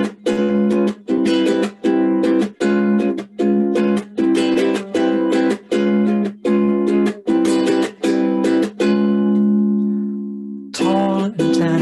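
A jazz standard, played live as a steady rhythmic series of harmonic phrases. Short pauses separate them, and a long sustained note comes near the end before the playing resumes.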